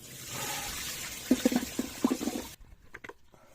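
Water pours and splashes as potatoes soaked ten minutes are drained into a colander, a rushing gush followed by a few dripping trickles, close and moderate.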